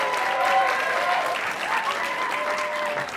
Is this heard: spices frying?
no